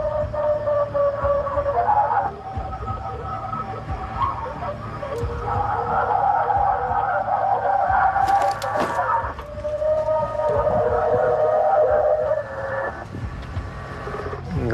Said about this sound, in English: plays the recording of the alleged Bigfoot through his PA system.